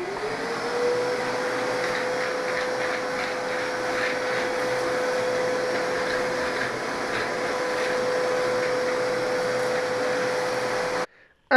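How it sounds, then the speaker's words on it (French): A vacuum cleaner sucks up debris in a shower room under renovation, running steadily at close range with a constant whine and roaring suction, cutting off abruptly at the end. "on va venir passer aspirateur pour enlever toutes les saletés"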